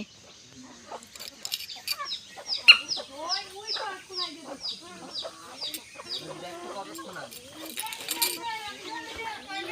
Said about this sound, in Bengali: তোমরা গেস করো যে এখানে কটা মুরগি আছে